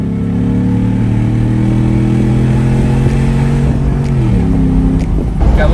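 A pickup truck's engine holds a loud, steady rumble through its exhaust, close by, then the pitch dips near the end as the revs shift.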